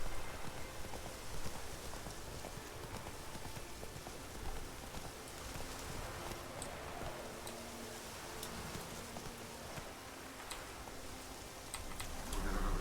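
Roach the horse gallops in The Witcher 3, a dense, steady drumming of hooves blended with a hissing, rain-like wash that runs unbroken and fairly loud, with no voices.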